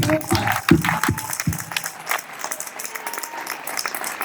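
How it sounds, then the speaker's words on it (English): Audience applause for a coach at a high school hall of fame induction, starting with a few strong claps and loud bursts, then thinning into scattered lighter clapping. "give him applause"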